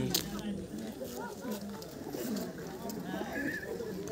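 Pigeons cooing at the Tala bird market, soft repeated coos under continuous crowd murmur and chatter, with a faint tapping and the busy hubbub of the market all around.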